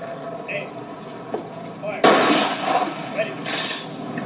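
Rifle volley salute at a World War II veteran's funeral, a sharp loud crack of shots followed by a second report, with a commander's voice calling orders between them.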